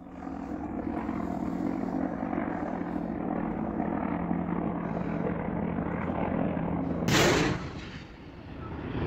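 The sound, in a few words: helicopter and gunshot in a played video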